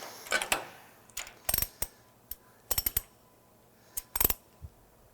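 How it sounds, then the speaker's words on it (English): Sharp metallic clicks from a torque wrench ratcheting while backing off bolts on the knife of a MacDon FD2 FlexDraper double-knife header come in short separated bursts of a few ticks each, close and fairly quiet with pauses between. "So sometimes you need to actually back off with a torque wrench."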